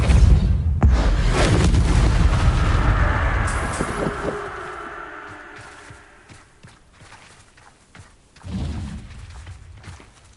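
The Depulso spell is cast in Hogwarts Legacy, a loud booming blast with a rumbling low end that fades out over several seconds, followed by a second, softer thump.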